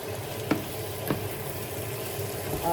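Tomatoes sautéing for binagoongang kamatis, a steady close sizzle with two sharp utensil clicks against the pan and faint stirring, no talking.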